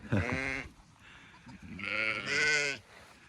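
A Saanen goat bleats twice up close, a short wavering call followed by a longer, louder one.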